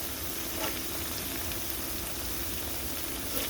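Hilsa fish sizzles steadily in hot oil for a mustard curry, a dense, even frying hiss that continues without a break.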